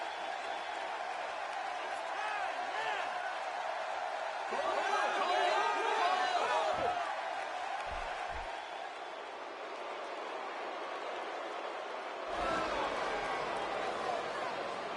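A large WWE SmackDown arena crowd in a wrestling video game roars and cheers steadily, with scattered whoops and chatter, swelling louder in the middle and again near the end.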